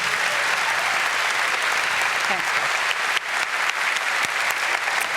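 A crowd at the Ubisoft E3 2016 press conference applauds loudly and continuously, a dense wash of clapping with a few sharper hand claps standing out and a brief voice over it.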